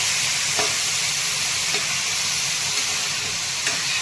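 Radish pods sauté in hot oil in a pan, a continuous hissing sizzle close at hand, broken by a few faint taps.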